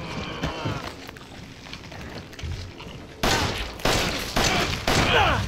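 Pistol shots in Resident Evil 7, several loud booming reports arriving in an uneven sequence after a quieter, rumbling stretch, no talking over them.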